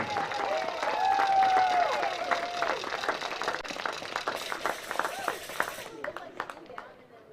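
Crowd applause and cheering in the stands at a high school baseball game honoring the senior class, loud clapping with shouts and a whistle early, thinning to scattered claps and chatter.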